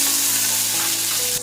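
Curry leaves drop into hot oil that already holds dried and green chillies, setting off a loud, close, continuous sizzle through the whole short moment, with no voice.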